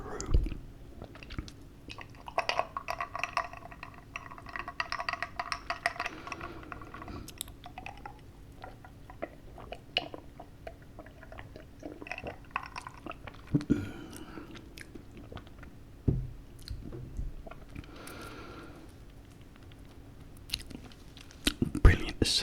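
Close, intimate chewing and biting of Domino's pizza, soft wet mouth sounds and crunches repeating through the stretch, with occasional quiet whispered talk.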